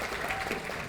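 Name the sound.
audience applause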